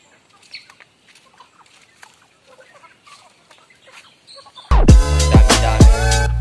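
Native chickens on a Mindanao farm cluck and call faintly in the distance for several seconds, then a sudden loud, dense burst of overlapping bird calls and clucking erupts close by.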